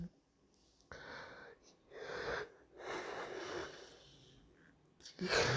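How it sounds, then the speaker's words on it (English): Long, drawn-out breathy exhalations with a wheezy, strained quality, like a deep yawn stretched over several seconds, close to the listener. "excuse me, I'm yawning"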